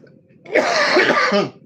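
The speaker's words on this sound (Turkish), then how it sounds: "Niye öksürük tuttuysa bizi." A single close, loud, raspy cough or throat-clearing burst lasting about a second, then quiet.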